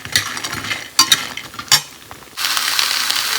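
Mixed vegetables and bori lentil dumplings fry in a pan, with scraping stirs and clattering knocks over a soft sizzle that rises into a louder, steady frying hiss toward the end.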